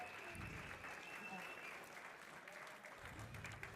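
Audience applause at a boxing bout, a steady wash of clapping and crowd noise that keeps going for the whole stretch with no break.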